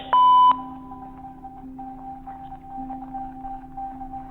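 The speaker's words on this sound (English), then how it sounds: "At the tone, please record a voice message." A phone answering machine sounds a short, clear record-tone beep at the start, followed by a quiet steady line hum.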